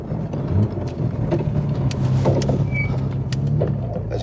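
Car engine hums steadily inside the cabin while the vehicle slows with heel-and-toe downshifts through a dog-box gearbox, engine note shifting as gears change.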